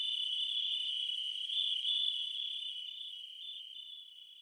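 A cricket chirps in a steady, high-pitched continuous trill, close and fairly loud, holding unbroken from start to finish with a slight fade toward the end.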